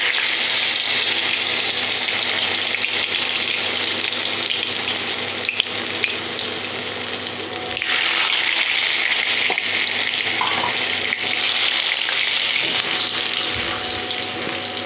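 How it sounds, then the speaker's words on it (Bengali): Chopped ginger and garlic frying in leftover oil in a wok for chilli paneer: a steady, loud, continuous sizzle that holds for the whole stretch with no talking. "আদা কুচি আর রসুন কুচিটাকে আমি একটু হালকা করে ফ্রাই করে নেব"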